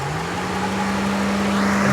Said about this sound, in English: As you can see, the radiator fan has kicked in